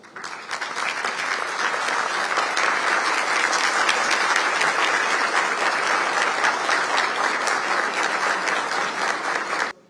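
Standing ovation for a national astronaut at a technology summit in Ankara, a large crowd clapping in a dense, sustained roar that swells in, stays loud and steady, then stops abruptly.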